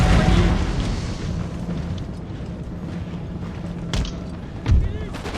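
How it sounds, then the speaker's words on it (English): Rifle volleys crack across a battlefield in Empire: Total War, with cannon-like booms and rolling reports over a constant din of combat, a couple of sharper louder bursts standing out near the end. "Oh, they have rifles,"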